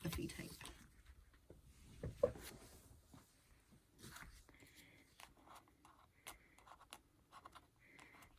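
Puffy foam tape is handled close up during card making, producing faint, intermittent scratches, crinkles and small peeling squeaks in a quiet room.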